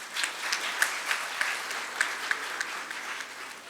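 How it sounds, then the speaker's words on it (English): An audience at a closing plenary of an international academic conference gives a round of applause. The clapping is even and continuous, with scattered sharper claps standing out, and there is no talk over it. "Please give them a big round of applause"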